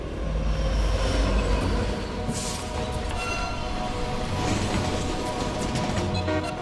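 A freight train rolls steadily along railway tracks, its heavy low rumble loud and close with faint metallic squeals and clatter above, alone without talk.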